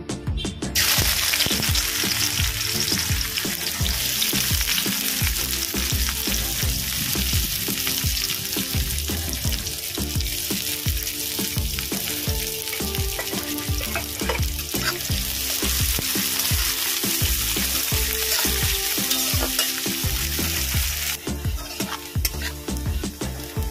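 Chopped onions fry in hot oil in a wok for birista, a dense, steady sizzle with occasional stirring scrapes, continuous and fairly close with no talking.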